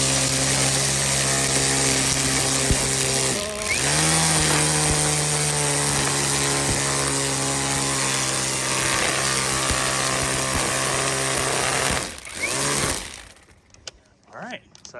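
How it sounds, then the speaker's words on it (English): An Ego cordless string trimmer, turned on its side, edges a lawn with a loud, steady motor whine and buzzing line that runs continuously, dips briefly twice, then cuts off near the end. "I'm going to basically just turn my trimmer here on the"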